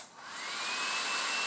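An Andis blow dryer running on its low setting, a steady airy whoosh with a faint motor whine that swells up after a brief start and then holds constant, close to the microphone with no talking.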